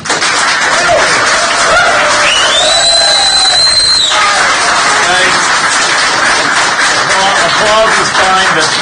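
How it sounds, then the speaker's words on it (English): An audience at a county commission meeting breaks into loud, continuous applause and cheering, with a long shrill whistle rising over the clapping, then further shorter whistles and voices mixed in the crowd noise. "Applause is fine, but please don't whistle"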